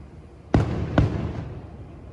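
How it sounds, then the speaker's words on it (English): Fireworks exploding outside a room at the Tropicana hotel near Disneyland, two booming bursts about half a second apart, heard from a distance and echoing as they fade. "Thought I would show you what it looks like to see fireworks outside of my room"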